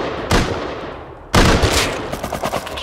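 Two loud, sharp gunshots crack out in the survival game Rust, about a second apart, each one decaying into a rumbling tail, followed by a few softer impacts.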